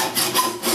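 A hand saw cuts through a metal part, giving short, rasping back-and-forth strokes in a quick rhythm, close and moderately loud.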